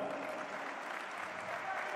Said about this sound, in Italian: Un applauso grandissimo vi chiedo al grande Darwin Cook